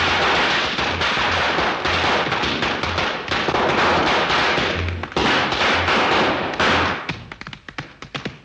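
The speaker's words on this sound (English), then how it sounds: "my favorite dance sequence with Fred Astaire dancing with firecrackers" Firecrackers dropped and popping in rapid irregular bursts on a shiny black stage floor during a Fred Astaire dance number, loud, dense and crackling, thinning out to scattered snaps toward the end.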